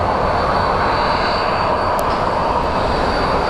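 Airliner at Phoenix Sky Harbor International Airport, a steady loud broadband engine roar that holds evenly throughout with a faint whine on top, no voices.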